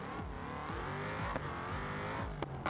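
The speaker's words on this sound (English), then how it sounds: "listen to that exhaust" An SUV engine in the BeamNG Drive video game revs hard with a deep, throaty exhaust, rising and falling through repeated throttle blips and gear changes.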